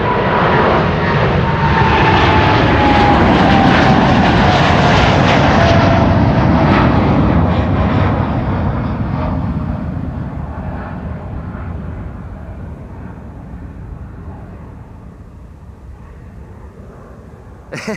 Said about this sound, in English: This is the airplane going to Quito, capital of Ecuador